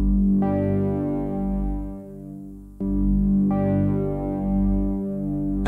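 A Hydra synthesizer plays dry, with no delay or reverb, in sustained low harmonic chords; notes start sharply and cut off cleanly, retriggering at about three-second intervals.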